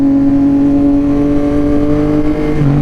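A Yamaha XSR900 three-cylinder motorcycle engine with drift exhaust idles steadily with a deep, even hum, close by and with no other sounds.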